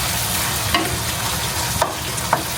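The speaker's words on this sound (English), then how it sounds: "Okay, stir. I want to stir the sauce." Trader Joe's chicken chow mein stirred with its sauce in a hot pan, a steady close sizzle with a few sharp scraping strokes of the utensil against the pan.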